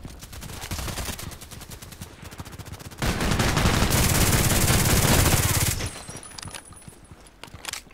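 Rapid automatic Glock 18 pistol fire in the online shooter Contract Wars, sharp bursts of close shots with a denser sustained volley in the middle and scattered shots trailing off.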